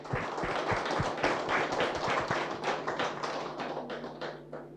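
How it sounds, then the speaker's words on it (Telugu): Claps from a meditation workshop audience at a pyramid centre, a brisk burst of sharp, fairly close hand claps with a steady rhythm that thins out toward the end. "ఓకే, సో ఆ శక్తి క్షేత్రానికి ఒకసారి క్లాప్స్ కొడదాం"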